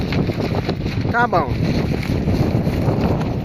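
Strong wind buffets the microphone at a lakeside campsite, a constant rough rumble throughout, with a brief voice speaking partway through.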